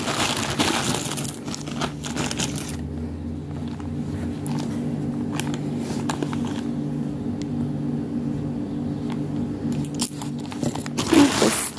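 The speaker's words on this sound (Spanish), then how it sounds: "Estuve juntando monedas de 50 centavos." A saver's collected 50-centavo coins are handled and dropped. Scattered metallic clinks and jingles sound close up over a soft, steady background hum, with a louder clatter near the end and no talking.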